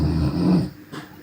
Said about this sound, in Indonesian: Waduh, ngorok.